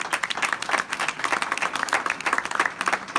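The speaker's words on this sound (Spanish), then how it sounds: "Brindémosle un aplauso más, por favor." A concert-hall audience at a tribute conference and concert gives lively applause, with many hands clapping in a dense, uneven patter throughout.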